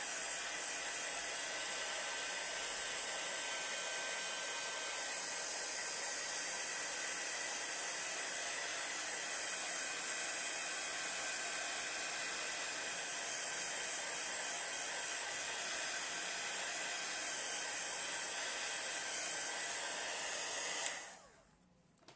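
Steady, loud hair dryer-style heat tool blows continuously while drying metallic paint made from mica powder and soft gloss gel, a broad airy roar that cuts off abruptly near the end.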